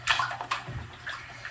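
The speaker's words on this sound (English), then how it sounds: "Putting my feet directly in the water." Feet step into flooded water at the lowest point of a house's basement, making a few close splashes and sloshes in uneven rhythm, fairly loud and with no talking.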